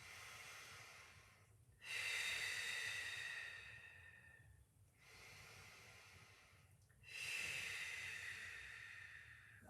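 Deep lateral breathing during a Pilates mobility session: two long, close hissing breaths, each drawn in and let out slowly, separated by a quiet pause.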